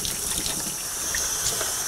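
Water runs steadily over the top of a beer keg in a sink, rinsing off beer that gushed from the pressure relief valve; a continuous close hiss and splash with no talk.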